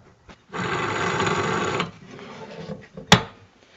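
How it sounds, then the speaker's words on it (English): A worn tensioner pulley on a 1972 Chevy truck engine gives a harsh rattling whir for over a second, then a quieter rumble, followed by a sharp metallic clank. "The tensioner pulley. Listen to this."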